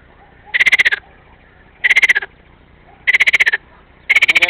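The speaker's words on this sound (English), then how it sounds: "Alright, now we got three frogs right here." Frogs croaking in Ukraine: four loud, close bursts of rapid pulsed trilling, each about half a second long and spaced roughly a second apart, with no voices.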